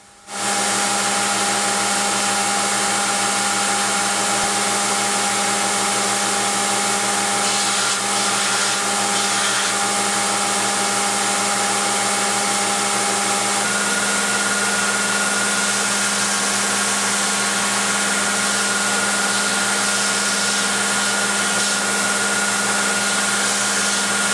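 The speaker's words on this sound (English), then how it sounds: "Now I'll profile the handle, rounding off the face, breaking the edges, giving it a finger groove" A power tool whines steadily as it profiles and rounds the handle of a military-style combat knife, a loud continuous motor drone that starts abruptly and holds for the whole stretch, with slight grinding variation midway.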